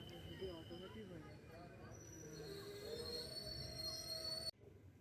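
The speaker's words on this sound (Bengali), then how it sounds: "ট্রেনে উঠে পড়েছি ট্রেন ছেড়েও দিয়েছে" Rumbling train wheels on rails with high, sustained metallic squeals rising over the steady clatter, heard from aboard the moving train, ending abruptly.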